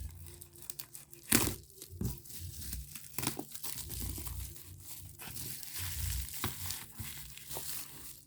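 Packaging of a Canon PowerShot G12 camera is unwrapped, giving close crinkling and tearing of plastic with a sharp rip early on and scattered rustles and crunches after.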